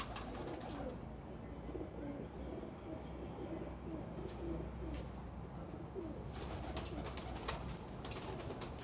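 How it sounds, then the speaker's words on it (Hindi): Sialkoti pigeons coo in a loft, a steady soft murmur of overlapping low cooing with occasional wing flutters and faint voices underneath. "प्योर सियालकोटी कबूतर है जी"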